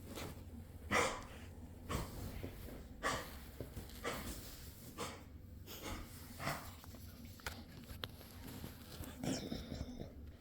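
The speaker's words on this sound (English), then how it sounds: "Those are our dogs, Dax, and the one hacking is Dax" Two dogs lying close by hack, snort and wheeze in irregular bursts, with heavy breathing between the louder coughing spasms and a faint voice now and then.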